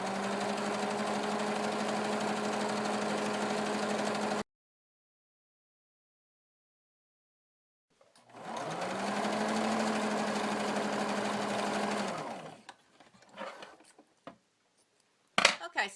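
A sewing machine zigzag-stitches along a folded quarter-inch fabric hem on a child's apron, running in two steady bursts with a pause between and a few faint handling clicks at the end.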